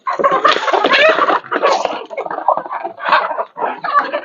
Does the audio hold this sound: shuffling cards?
no